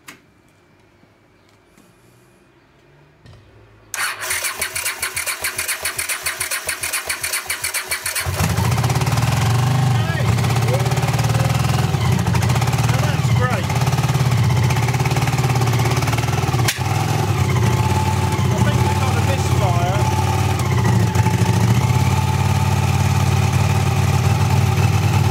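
A Honda CX500 motorcycle being rebuilt as a cafe racer cranks over from a booster battery for a few seconds, then fires and settles into a loud, steady idle.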